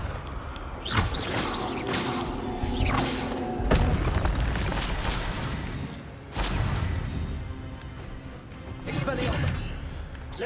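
Booming, crashing spell effects of the Expelliarmus disarming spell in the game Hogwarts Legacy, repeated heavy impacts with whooshes over dense combat noise, under a voice.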